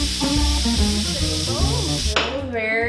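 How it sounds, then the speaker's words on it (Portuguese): Steam from a pressure cooker holding pumpkin and onions for a cream soup is released by pressing the valve with a knife, giving a loud continuous hiss over kitchen clatter and voices, with a sudden shift near the end. "Vou botar a faquinha ali e tirar a pressão"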